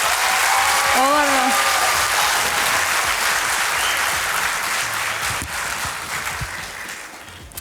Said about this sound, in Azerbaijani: alqışlarınızı da bildirin